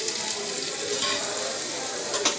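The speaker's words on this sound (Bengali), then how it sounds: "দিয়ে এই আমগুলো, জল ঝরানো আমগুলো ঢেলে দিচ্ছি।" Drained mangoes hit hot white oil tempered with cardamom, cinnamon and cloves, giving a steady close sizzle and frying hiss with a couple of brief clinks and stirring sounds near the end.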